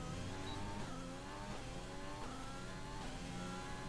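Formula 1 car in F1 2020 at Bahrain, engine note rising and falling through gear changes with tyre squeal, steady and close, alone.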